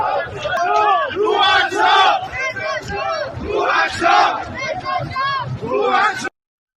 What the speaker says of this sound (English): Here are massive crowds of the Iranian anti-regime protesters who have taken to the streets chanting, "Reza Shah, bless your soul."